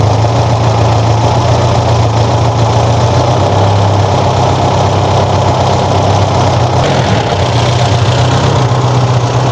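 An air-cooled Volkswagen Beetle engine, rebuilt for a hill-climb race, runs loud and close with a rough, throbbing idle and a slight rise in revs near the end.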